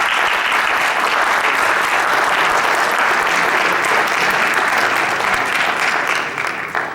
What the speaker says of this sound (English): Let's give Gail a round of applause.